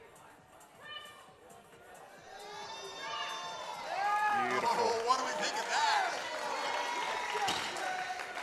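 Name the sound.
crowd cheering for a bench press lift at powerlifting nationals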